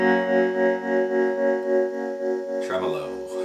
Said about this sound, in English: it's a Dan Electro, very affordable tremolo pedal